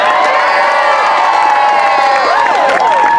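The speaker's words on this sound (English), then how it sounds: "so I need everyone to make applause while I do it." Loud, close crowd cheering and whooping at a Pride celebration on the Monterey Peninsula, California, with high excited shouts and voices layered over scattered clapping, continuous and energetic throughout.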